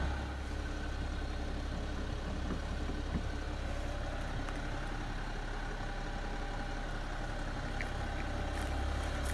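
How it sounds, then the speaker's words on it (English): A BMW car engine idles steadily with a low, even rumble and hum, unchanging and alone throughout. "And the engine will still be running."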